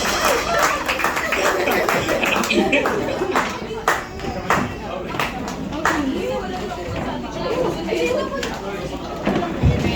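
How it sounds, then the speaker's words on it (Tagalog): Church congregation clapping loudly during a service, rhythmic claps mixed with crowd chatter and people talking throughout. "So malakas na palakpak sa ating Panginoon."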